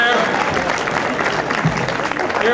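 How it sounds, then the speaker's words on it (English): Audience applause for a performer named John during a magic and escape act by a magician, a dense steady wash of clapping with some speech mixed in. "A big round of applause for John"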